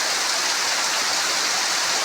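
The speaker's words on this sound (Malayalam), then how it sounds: "നല്ല സൂപ്പർ മഴ." Heavy rain pouring down in a steady, dense hiss that stays loud and unbroken throughout, with no voices over it.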